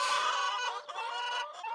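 Chickens cluck in a village coop, with several birds calling close by in a continuous stream of clucks and squawks.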